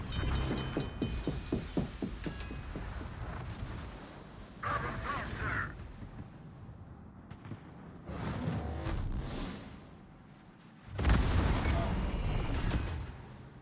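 Naval gunfire in the World of Warships game, heavy booming salvos with rumbling decays and a loud blast near the end, mixed with game voice lines and chatter.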